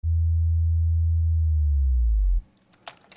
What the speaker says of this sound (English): So we just went in and drew a bass slide.